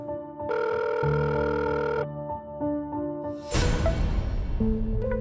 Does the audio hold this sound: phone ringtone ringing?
yes